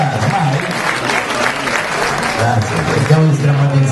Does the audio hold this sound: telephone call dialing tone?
no